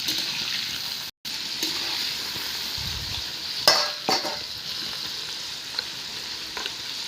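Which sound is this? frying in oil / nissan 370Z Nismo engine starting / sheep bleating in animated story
frying in oil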